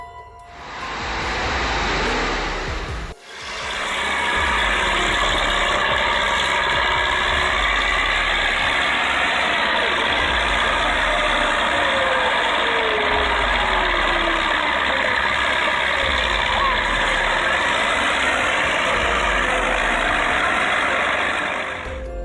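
A tractor engine runs hard during a tractor pull, a loud, steady roar that cuts out briefly after a few seconds and then resumes at full strength, sustained with a strained, droning tone.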